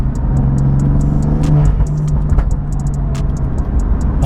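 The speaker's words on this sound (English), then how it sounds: "the burble is crazy too" A BMW M4 running a Bootmod3 Stage 2 tune rumbles loudly close up, its exhaust burbling and crackling with sharp popping bursts over a steady deep engine drone.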